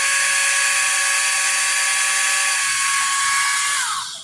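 A small electric hobby drill whines at high pitch, running steadily at constant speed, close and loud, then winding down at the end.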